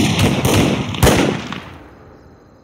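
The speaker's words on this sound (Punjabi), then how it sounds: "ਭਲਵਾਨ ਸਿਆ, ਤੂੰ ਕਹਿੰਦਾ ਸੀ ਨਾ ਤੇਰੇ ਆਉਣ 'ਤੇ ਪਟਾਕੇ ਪੈਣਗੇ।" Firecrackers go off in a Punjabi comedy film scene, several sharp cracking bursts in quick succession, then one louder pop before the sound trails away into a fading echo.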